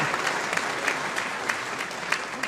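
Live comedy-show audience clapping for the Edale Mountain Rescue team, a dense, even round of applause from a full room that continues without a break.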